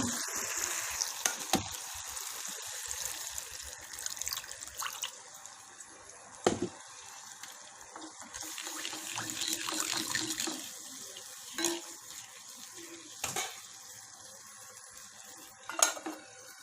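Tomatoes softening in a pan sizzle and spit as a little water is poured in, with dripping, bursts of hissing and occasional clinks of utensils against the pan, fairly faint and close.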